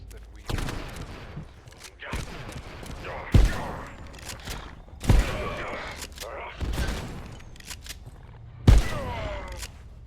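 Bursts of gunfire from a weapon in the video game Abiotic Factor, several sharp loud shots spaced through the scene amid rattling fire, thuds and footsteps, with a voice talking underneath.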